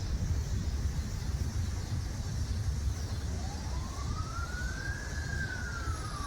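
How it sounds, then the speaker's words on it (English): Emergency vehicle siren passing outside a historic workhouse building, a steady wail sweeping upward over constant traffic and wind noise, heard alone without talk. "Apologies for the sirens."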